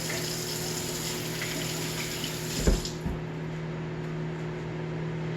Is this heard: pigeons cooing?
no